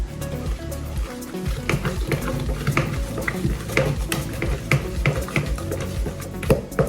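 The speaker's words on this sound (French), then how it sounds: "Et on va rajouter de l'eau. Puis on va venir mélanger." Water is poured into yogurt cake batter in a bowl, followed by stirring with clinking utensil taps against the dish, close and fairly loud in a rhythmic, uneven pattern.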